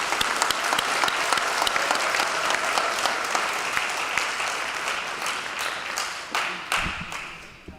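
Sustained applause from a high school graduation audience, a dense steady wash of many hands clapping that holds for several seconds, with a few sharper louder claps near the end and no talk over it.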